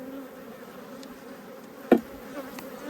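Honeybees buzzing during a hive inspection, a steady close hum with a brief knock partway through.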